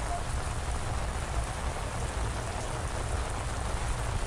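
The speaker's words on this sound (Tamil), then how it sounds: "திருவண்ணாமலை மாவட்டம் கீழ்பெண்ணாத்தூர் சுற்றுவட்டார பகுதிகளில் அதிகாலை முதலே பரவலா கனமழை பெய்து வருது" Heavy early-morning rain pours over Kilpennathur in Tiruvannamalai district, Tamil Nadu, a constant, even hiss of downpour with no breaks, fairly loud and without voices.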